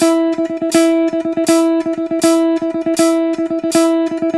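An electric guitar repeats a single sustained note in a rhythmic phrase, an eighth note followed by a quick 16th-note triplet, with bright picked attacks recurring at a steady tempo, played alone.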